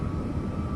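Steady engine roar of an airplane in a video game, a constant low rumble with a faint whine, loud and unbroken throughout.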